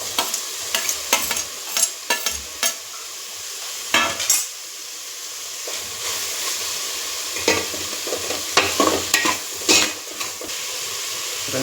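Chopped tomatoes tipped into ginger-garlic paste frying in hot oil for veg biryani, a steady close sizzle broken by repeated sharp stirring scrapes and clinks of a spoon against the pan.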